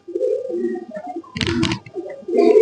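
Domestic pigeons coo in low, throaty rolling calls, close and fairly loud, with a short burst of wing flutter or scuffle in the middle of the sequence.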